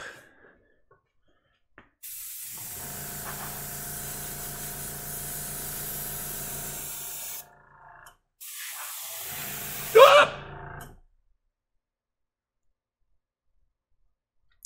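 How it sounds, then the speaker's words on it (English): Spray paint hisses from an aerosol can in two long, steady bursts close up, the first lasting several seconds and the second shorter, with a rattling click between and silence around them. "I caught too much of an edge of the paint, and I sprayed it all over."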